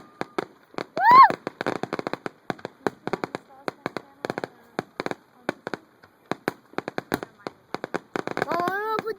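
A fireworks display ends with a rapid barrage of sharp, crackling bursts and pops, dense and irregular, some louder than others, with a few whistling rising tones mixed in and voices cheering in between.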